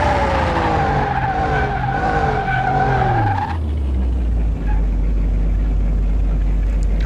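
A Nissan Skyline 2000 GT-R races down a track in Car Mechanic Simulator 2021, its engine whining through rising and falling gear pitches, tyres squealing, then easing into a steady low drone for the last few seconds.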